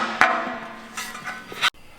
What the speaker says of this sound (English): I like to use a soft hammer just to not screw anything up,